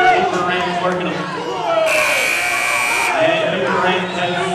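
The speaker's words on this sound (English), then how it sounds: "It's going to come right down for the final buzzer." A final buzzer blares for about a second at a ranch sorting competition in an arena, a loud flat electronic tone sounding over continuous commentary and crowd noise.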